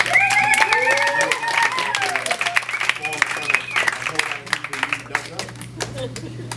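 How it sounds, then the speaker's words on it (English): A crowd at a poetry and spoken-word event applauds the performers, brisk clapping with some cheering under a singing or talking voice, the clapping continuing throughout at moderate loudness. "give another big round of applause for everybody that's been up here"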